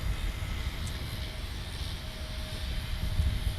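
An Alaska Airlines Embraer 175 jet at San Diego airport produces a steady, distant low roar of engine noise with a broad rumbling wash, continuous and unbroken for the whole stretch.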